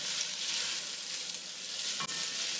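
Andouille sausage frying in oil over a high flame, a steady close sizzle and crackle throughout with one brief sharper pop near the end; no talking.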